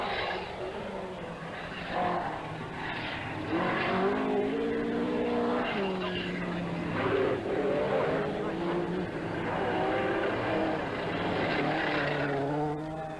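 Rally cars race flat out on a stage of the 1985 Donegal Rally, a Porsche closing on an Opel Ascona, engines rising and falling through gear changes under continuous commentary.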